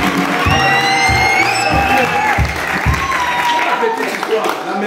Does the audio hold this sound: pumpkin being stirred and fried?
no